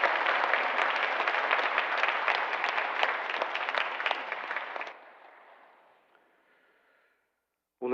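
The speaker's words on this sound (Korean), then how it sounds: "박수로 환영해 주시길 바랍니다." A church congregation gives welcoming applause to a new member during a Sunday service, many hands clapping loudly for about five seconds before thinning and fading out, ending in silence and then a brief sound at the very end.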